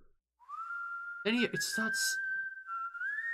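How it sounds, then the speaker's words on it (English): A single sustained whistled tone glides up and holds steady, with a brief burst of voice and sharp noise partway through. "it starts so atmospheric with this whistling"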